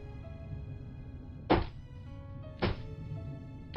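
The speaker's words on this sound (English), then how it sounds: "Those footsteps are getting closer." Heavy, slow footsteps approach in the horror video game Corpse Party, dull isolated thuds spaced about a second apart over a low droning music bed, fairly distinct against the quiet background.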